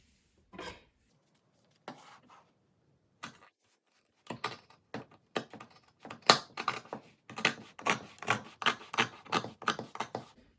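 Scissors cutting through two pairs of jeans stacked together, sparse crisp snips at first, then a quicker run of repeated cuts, close and quiet with no talking.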